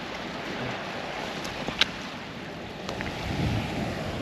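Small waves lapping at the water's edge along a beach walk in Jersey, a soft continuous wash with some wind buffeting the microphone and a couple of faint brief knocks.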